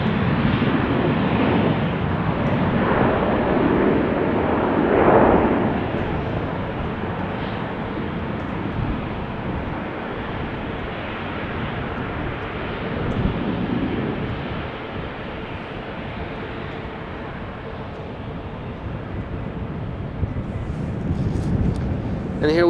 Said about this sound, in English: And here we have KLM's first A321Neo, the PH-AXA, going to Prague.